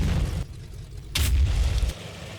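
Artillery fire booms through a World War II battle in Combat Mission Final Blitzkrieg, a heavy, rumbling blast that swells up loud and low, then fades.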